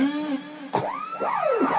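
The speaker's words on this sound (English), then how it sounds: "my original siren box from the sound system" Rising and falling electronic sweeps from a sound-system dub siren box, swooping up and down in quick repeated arcs, loud and close with no talking.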